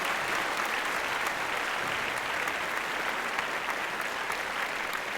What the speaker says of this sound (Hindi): ज़ोरदार तालियों से इस्तकबाल कीजिए जनाब आदिल रशीद